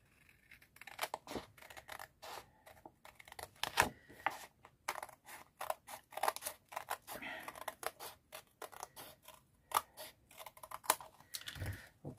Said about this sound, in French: Je vais couper ce qui dépasse.